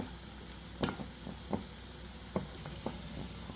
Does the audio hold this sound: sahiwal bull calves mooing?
no